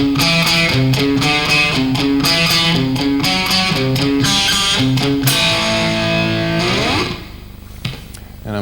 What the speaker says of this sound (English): I use sort of a twangy kind of guitar sound.